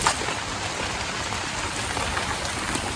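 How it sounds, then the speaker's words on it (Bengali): Heavy rain pours down near a river, a dense, unbroken wash of drumming drops close by and fairly loud, with no talking. "এরকম করে বৃষ্টি পড়লে নদীর পানি আরো বাড়বো"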